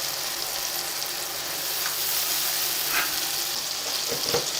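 Whole spices for chicken biryani (cinnamon, star anise, black cardamom, cumin, cloves and black peppercorns) frying in a pan make a continuous soft hiss and sizzle, with a couple of light scrapes near the end.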